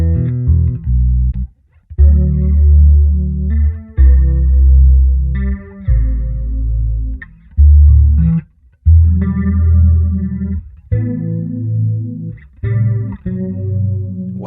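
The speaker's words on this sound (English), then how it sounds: "And then we can do flanger." A bass guitar played through the flanger on a Darkglass Anagram multi-effects unit, with loud, sustained low notes and chords carrying a sweeping, swirling modulation, separated by brief pauses, with no speech.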